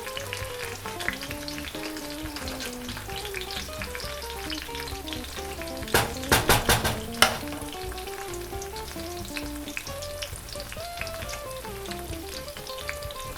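Vegan Colorado/New Mexico-style chile rellenos crisping in a non-stick pan give a steady, soft sizzle beneath background music, with a brief cluster of louder clatters partway through.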